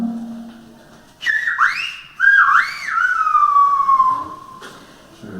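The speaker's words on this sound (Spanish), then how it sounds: "lenguaje silbado, si esto no es silbo articulado" Silbo, the articulated whistled language of Gran Canaria, heard as one loud, near phrase of swooping rising and falling whistle glides ending in a long steady falling tone, whistled alone without talk.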